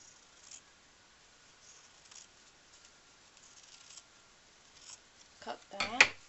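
Scissors snip through paper during paper piecing with a few quick, close cuts near the end. Faint rustling comes before them, and a voice is heard briefly.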